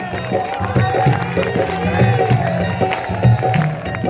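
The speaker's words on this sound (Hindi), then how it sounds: "अरे भी तालियां बजाने का समय आया नहीं है प्रेमियों।" An audience at an Indian devotional Shyam bhajan gathering claps in rhythm, a crowd of hands beating steadily over music and an amplified voice.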